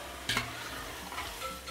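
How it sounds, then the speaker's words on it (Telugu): Chicken is added to hot oil with coriander and mint, giving a close, steady sizzle that starts with a brief clatter and then hisses on evenly and quietly with no talking. "కొత్తిమీర, పుదీనా వేసిన తర్వాత ఇప్పుడు మనం ఇందాక మిక్స్ చేసి పెట్టుకున్న చికెన్ వేసేద్దాం."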